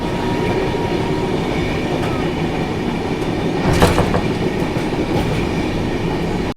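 Moving passenger train, the Tamil Nadu Sampark Kranti Express, a loud steady rumble of wheels and carriage noise with a brief metallic screech in the middle.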